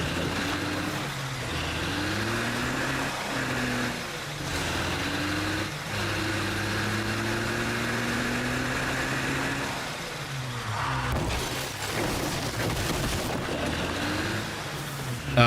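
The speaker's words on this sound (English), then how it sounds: "Oh, another car." A car drives past in the zombie-survival game State of Decay 2, its engine note rising and falling through several gear-like sweeps, fairly steady and prominent over a noisy game background.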